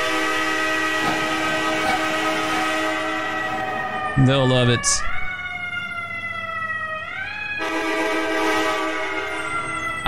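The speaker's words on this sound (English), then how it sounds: "Lay on the train horn at 3:45 in the morning." A fire truck's train horn blares in the EmergeNYC video game on a Brooklyn hazmat response. The loud, sustained chord blasts continuously over a wailing siren that sweeps in pitch, with someone talking briefly over it.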